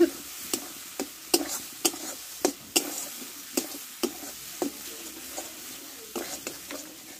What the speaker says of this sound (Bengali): আর একটু অল্প দেবো, মশলাটা ভালো করে কষে নেব।